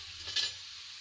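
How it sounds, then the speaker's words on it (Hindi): Gujiya frying in oil in a kadhai over a low flame, a soft brief sizzle with a faint stir, quiet and close. "धीरे से गुंजिया को जो है कढ़ाई में डाल देंगे और इसको फ्राई होने देंगे।"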